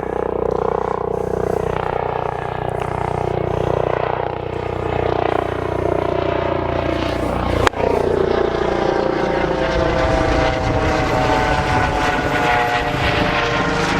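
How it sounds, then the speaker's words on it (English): A helicopter flies over a golf course in Cornwall, its steady rotor and engine roar loud and continuous throughout, with a brief sharp break partway through as the sound carries on overhead. "There's a helicopter coming over"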